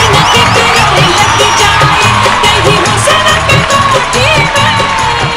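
Crowd at a Bhojpuri singing competition show cheers, whoops and claps to welcome the singer to the stage, a loud continuous roar with shouts rising over it.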